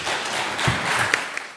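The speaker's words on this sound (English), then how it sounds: "Please welcome our panel with a round of applause" Conference audience applauding to welcome a panel at a media conference, a short burst of clapping that swells briefly and then thins out, with no speech.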